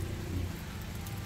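Steady typhoon rain patters on surfaces with a low rumbling background, continuous and fairly loud throughout the short moment.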